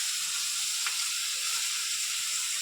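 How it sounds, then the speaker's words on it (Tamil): Steady bright sizzling of tomatoes and onions sautéing in a hot pan, continuous and close, with no talking. "தக்காளி வதங்கட்டும்"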